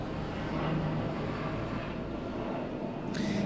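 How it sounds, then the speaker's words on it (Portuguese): A steady, loud low rumble of a helicopter passing overhead, continuous throughout with no talking. "Tá passando um helicóptero, tá bom alto aqui."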